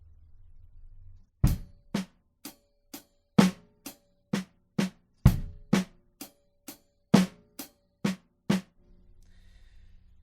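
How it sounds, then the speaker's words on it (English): A drum kit plays a single paradiddle with bass drum added on beats 1 and 3: an even stream of close, sharp strokes, with deeper thumps landing under some of the hits, alone without voices. "We're now going to add the bass drum on 1 and 3"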